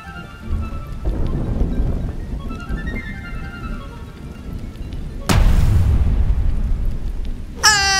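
Rain and thunder in the Roblox game Brookhaven: a steady hiss of rainfall with low rumbling, then a sudden loud thunderclap crashes in near the end, followed by a sharp bright burst.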